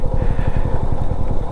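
Motorcycle engine revving hard and near as the bike skids in deep sand on a downhill slope on a Ladakh ride toward Umling La, a steady throbbing roar with no talk.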